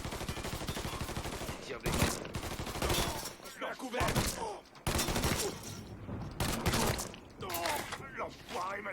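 Gunfire in the video game Mafia III crackles in repeated bursts and single sharp shots, loud and close, with a voice speaking between some of the volleys.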